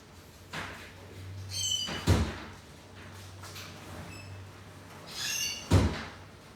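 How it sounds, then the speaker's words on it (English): A bathroom window being shut indoors during a heavy downpour: a few separate sliding and thudding knocks, two of them sharper and louder, over a low steady hum, with no talking. "let me close the window in my bathroom."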